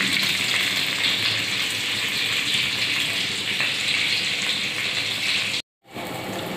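Rohu fish frying in oil in a pan, a steady loud broadband sizzle that runs continuously for several seconds before cutting off abruptly, then resuming.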